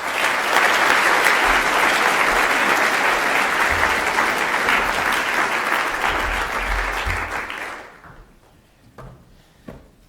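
A chapel audience claps loudly and steadily for about eight seconds to welcome a returning alumnus speaker, then the applause fades quickly into a few scattered bumps and a quiet room.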